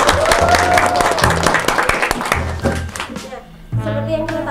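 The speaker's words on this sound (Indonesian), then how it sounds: "Sebelumnya tepuk tangan dulu dong untuk" A crowd at a school talk show applauds for a student, loud clapping mixed with background music and a brief whistle-like tone, fading and thinning toward the end.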